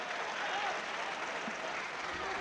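Applause from spectators in a futsal arena while a court cleaner wipes the playing surface, a steady broadband patter of many hands sustained throughout at moderate distance.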